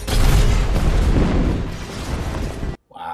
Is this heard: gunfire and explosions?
yes